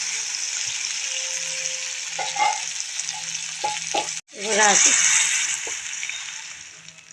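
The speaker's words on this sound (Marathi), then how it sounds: "थोडंसं त्याला परतून यामध्ये पाणी टाकून घेऊ" Water is poured into a hot pan of sautéed tomatoes while making bhagar, and a sharp burst of hissing sizzle erupts, then settles to a steady bubbling frying. Before it, a voice speaks briefly over gentle frying and stirring.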